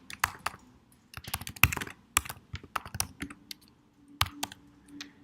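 A centre name is typed on a computer keyboard into a settings form, with rapid, close key clacks in irregular clusters and brief gaps.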